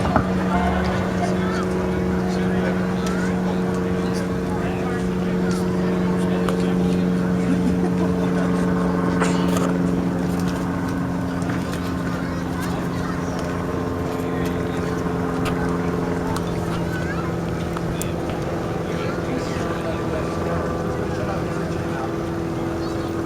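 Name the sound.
aerobatic airplane engine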